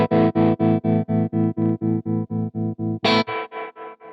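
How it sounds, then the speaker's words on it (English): An effected tone through a Crazy Tube Circuits White Whale V2 pedal on the octo setting with high intensity, chopped into a fast, even choppy tremolo pulse of about a dozen beats, then a brighter strike continues the stuttering rhythm. "If I put it on the octo setting and then turn up the intensity, so we've got like a real sort of choppy tremolo."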